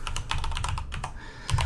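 Quick, irregular clicking of keys on a computer keyboard, close and crisp, in a short run of typing with no speech.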